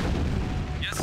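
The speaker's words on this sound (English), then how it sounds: "there's artillery shooting at you" Artillery fires in a video game battle involving tanks. A loud, dense, rumbling boom fills the whole moment and ends in a brighter burst.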